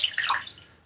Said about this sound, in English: Okay, so I'm going to pour this in this tray.